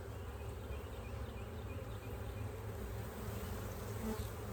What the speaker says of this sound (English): This one's heavy, got a lot of nectar in it, got a lot of drones.